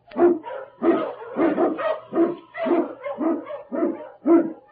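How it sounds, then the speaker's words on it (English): An Eskimo husky lead dog barks in a steady series of about eight loud, close barks, each one separate and evenly spaced, with no voices in between. "King, the swiftest and strongest of Eskimo lead dogs, blazes the trail through storm and snow"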